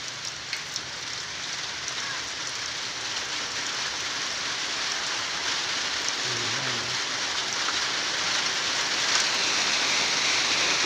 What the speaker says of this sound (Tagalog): umulan na